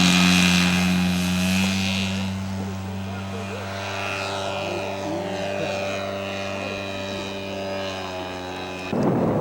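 A scale model P-38 airplane with twin propeller engines drones overhead at an air show, its buzzing pitch shifting as it passes and fading, with a commentator's voice talking over it.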